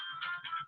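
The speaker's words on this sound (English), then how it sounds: "That was my phone." A mobile phone ringtone plays faintly in a short burst of bright electronic tones with a pulsing rhythm.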